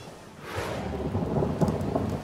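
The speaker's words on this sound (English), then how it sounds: "It rains quite a bit." Heavy rain pours steadily in a tropical North Australian setting while thunder rolls and builds underneath, loud and close, a dense wash of falling water with no voices.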